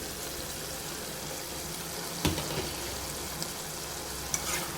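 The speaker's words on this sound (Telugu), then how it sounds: "ఇలానే ఇంకా హై ఫ్లేమ్లో పెట్టి అయితే ఉడికించుకుంటున్నాను" Curry with goruchikkudu (cluster beans) cooks in a pan over a high flame, making a dense, even hiss and bubble that fills the whole stretch. A few faint clinks stand out, and no voices are heard.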